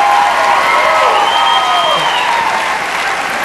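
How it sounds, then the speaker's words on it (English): A studio dance-show audience, family among them, applauds and cheers loudly and steadily, with shouts and whoops over dense clapping throughout. "Family cheering you on as always"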